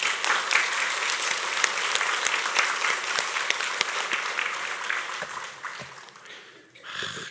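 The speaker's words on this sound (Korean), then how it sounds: "우리 크게 박수 한번 칩시다" A church congregation gives a sustained round of applause during a Sunday anniversary worship service, a dense wash of clapping that carries on steadily before thinning out and fading near the end.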